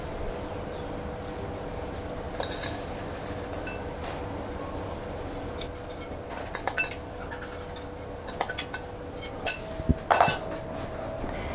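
Dishes and cutlery clinking as fried liver with garlic is plated: faint, sporadic clinks and light taps over a steady background hum, growing busier with a couple of brighter knocks near the end.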